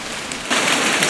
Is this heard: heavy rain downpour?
yes